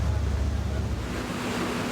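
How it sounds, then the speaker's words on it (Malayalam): A catamaran races across the sea near Tanzania, throwing up spray. A dense, rushing roar of water and wind fills the whole short stretch at a steady, close level. "വലിയൊരു അണക്കെട്ടിന്റെ ഷട്ടറുകൾ തുറന്നതുപോലെ വെള്ളം ചീറ്റിച്ചുകൊണ്ട് കുതിച്ചു പായുകയാണ് കറ്റമരൻ."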